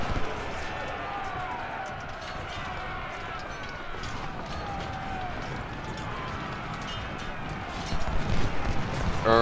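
Cavalry horses gallop across a Civil War battlefield in the strategy game Ultimate General: Civil War, a steady run of hoofbeats mixed into continuous battle ambience and crowd noise that swells near the end.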